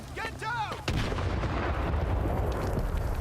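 In the game STALKER 2, a heavy explosion booms after a brief shout, followed by a sustained rumbling roar that stays loud and dense.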